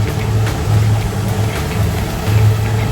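Twin boat engines hum steadily while cruising toward a lock, a continuous low drone with a slight pulsing throb and water noise, fairly loud and close with no talking.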